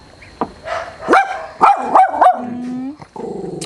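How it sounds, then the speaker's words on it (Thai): Close, loud barking and yipping from a dog at a home evening meal of pork neck with spicy hot-pot dip, several quick barks with growly whines between, nobody speaking over them. "อย่าเห่าคนสวย"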